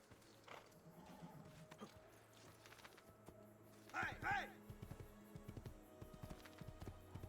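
Rhythmic hoofbeats of a galloping horse in Assassin's Creed 2, with a couple of louder thumps midway, set against steady background music and ambient game sounds.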